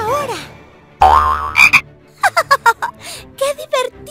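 Cartoon frog croaks from a Donald Duck children's video game, a few loud croaking calls alongside bright, cheerful narration and game sound effects.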